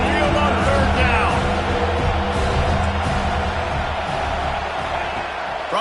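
An Alabama Crimson Tide football crowd roars on a third down in a packed stadium, a loud, dense and steady wall of noise that holds for the whole stretch, with faint voices underneath.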